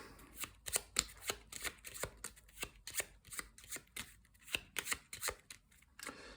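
Cards riffle-shuffled for the Tiny Epic Defenders: Dark War board game, a steady run of quick papery flutters and snaps, close and moderately quiet, with no one talking.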